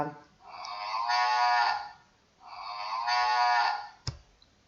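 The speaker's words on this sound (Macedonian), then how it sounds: "Да видиме како се јавува кравата." A cow gives two long, drawn-out moos with a short pause between them, followed by a sharp click.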